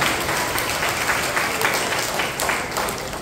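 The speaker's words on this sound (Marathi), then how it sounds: "त्याबद्दल त्यांचे सर्वांनी टाळ्या वाजवून अभिनंदन करावे." Audience at a pre-primary school Shivjayanti celebration applauding a poetry-writing prize winner, a dense continuous burst of many hands clapping close by.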